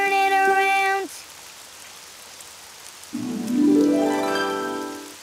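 Cartoon rain falls outside in a Daniel Tiger episode, a steady soft patter heard alone, framed by two short musical tones at the start and a rising chime near the end.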